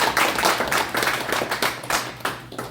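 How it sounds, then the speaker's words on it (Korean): Audience applause for an accountant after a lecture on pension fund risks, a close, steady patter of many hands clapping throughout with no talk. "우리 저 최한일 회계사님께 큰 박수 한번 부탁합니다"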